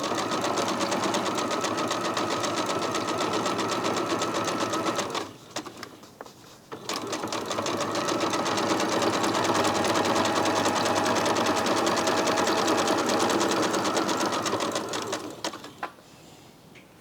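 A sewing machine stitches a zigzag join in quilt fabric with a fast, even mechanical chatter. It runs in two close bursts separated by a short pause, then slows to a stop.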